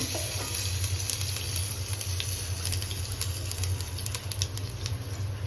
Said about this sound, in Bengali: একটু কালো জিরে একটা শুকনো লঙ্কা ভেজে নিচ্ছি